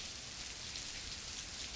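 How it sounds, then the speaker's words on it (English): Steady rain falls as a soft, even hiss with no breaks, faint and continuous with no other sounds. "Nice about the rain, though."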